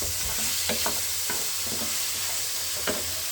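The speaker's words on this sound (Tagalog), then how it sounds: "At ito na yung chicken ang ating hinahalo-halo natin, guys" Chicken stirred in a hot oiled pan for pancit miki: a constant sizzle of frying underlies several scraping, clattering stirs of a utensil at irregular intervals, close by and without speech.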